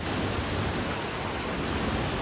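A diverted stream in a river rushes and hisses steadily, a dense broadband flow close by with no pauses, while boys fish upstream.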